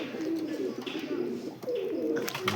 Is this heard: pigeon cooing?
yes